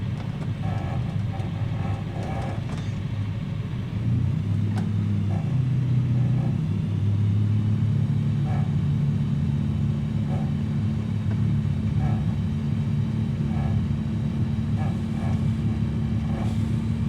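A light aircraft engine idles at about 2,000 rpm in a flight simulator at Darley Moor, a steady low droning rumble that grows fuller partway through and holds constant with no talk.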